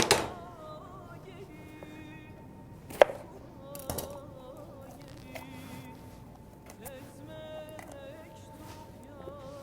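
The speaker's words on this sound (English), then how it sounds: "We've got 1 red pepper, which we're going to cut into strips." A knife chops a red pepper into strips on a cutting board, with several sharp, sporadic knocks early on and softer cuts after, heard under a speaking voice.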